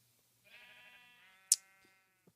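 Sheep in Minecraft give a single clear, wavering bleat, followed by a sharp click and a couple of faint taps in an otherwise quiet scene.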